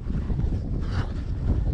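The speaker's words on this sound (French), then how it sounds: "En plein vent, avec un peu de pluie." Strong gusting wind buffeting the microphone on a trail run along a long, gently rising straight in light rain, a constant low roaring rush with a brief surge midway and no speech.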